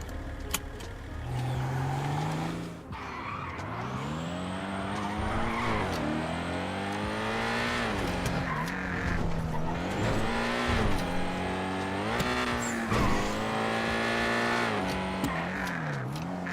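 A stock Ford Bronco in the RedlineRP driving game revs and accelerates with rising engine tones, repeated gear shifts and tire squeals throughout, loud and continuous with no talking.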